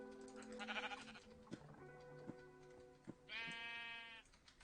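Minecraft sheep bleating in a video game, two separate quavering bleats, one early and one later, fairly clear with faint clicks between them.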